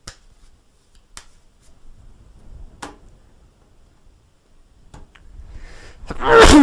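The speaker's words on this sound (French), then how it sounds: "Ce n'est qu'un éternuement" A single sharp, loud sneeze bursts out near the end, following a few soft clicks and near-silence during a French-language fortune-telling broadcast.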